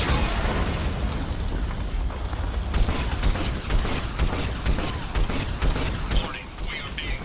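A Geth cannon firing in the video game Mass Effect 2, a sustained roaring blast with a booming low rumble and crackling debris over several seconds, loud and continuous with a voice underneath.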